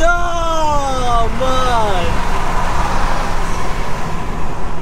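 An Audi S4 4.2 V8 and an Audi S3 TFSI accelerate hard in a race, their engines roaring loudly with a rising, shifting tone under excited shouting voices.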